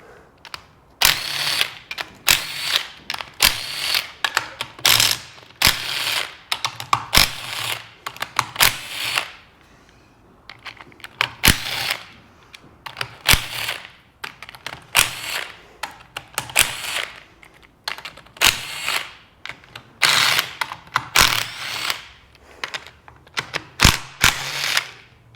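A hand ratchet clicks rapidly in repeated bursts while removing the oil pan bolts from an upside-down Suzuki GSXR 750 motorcycle engine, close and crisp, with short pauses between bolts and no talking.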